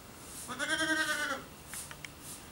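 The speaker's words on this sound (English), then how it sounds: "We have these goats in a barn until the spring" Goats kept in a barn give one clear, drawn-out bleat close by, followed by a few fainter scattered calls and small knocks, with no voices.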